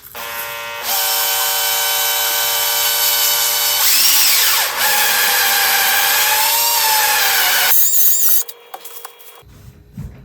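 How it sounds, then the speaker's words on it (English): A power drill opens up a push-through bullet sizing die with a loud, sustained high-pitched whine that shifts in pitch as it cuts, running for about eight seconds before stopping abruptly, leaving faint handling sounds. "and then I'm going to get to drilling."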